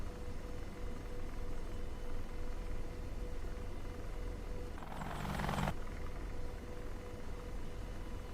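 A military helicopter in a flight simulator game drones with a steady rotor and turbine roar just after takeoff, constant and close, with a brief brighter burst of noise partway through.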